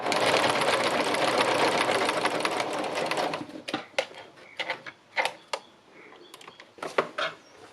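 A sewing machine doing free-motion stitching runs in a loud, steady whir for about three seconds, then stops and starts in short, uneven bursts of stitching.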